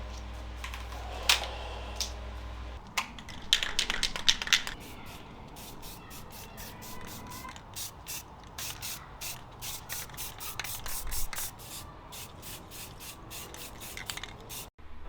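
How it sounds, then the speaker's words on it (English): Cardboard boxes and crates being spray painted, with a run of short, sharp aerosol bursts in quick irregular succession, heard close, after a few seconds of low rumble at the start. "So I'm going to spray both the boxes and the crates."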